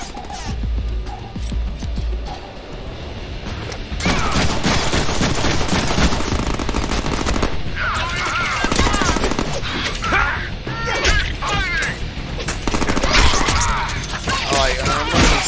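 Video game gunfire in Deadpool, dense rapid shots and mechanical clatter building after a few seconds and continuing steadily, with game effects layered in.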